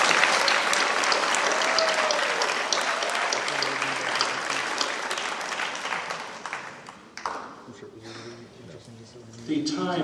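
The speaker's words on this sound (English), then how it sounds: "Let's give them a big round of applause." A school board meeting audience gives sustained, loud applause for high school research symposium students, dense clapping filling the room for several seconds before it thins out and a voice starts to speak.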